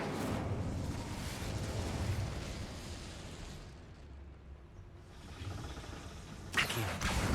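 Fiery spell burst cast in Hogwarts Legacy: a loud, sustained roaring whoosh and rumble with a sharp crackling flare near the end, no talk.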